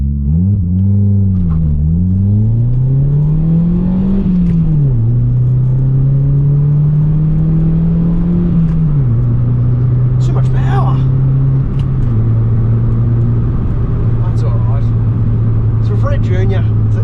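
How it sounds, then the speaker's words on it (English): A Hyundai Getz hatchback track car with a custom 2-inch exhaust accelerates hard through several gears, its loud droning exhaust rising in pitch then dropping at each shift, heard from inside the cabin. "we'll just do a little takeoff here so you can hear the Getz"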